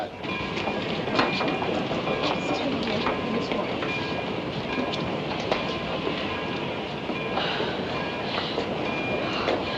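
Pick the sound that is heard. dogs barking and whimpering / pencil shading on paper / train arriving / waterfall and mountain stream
train arriving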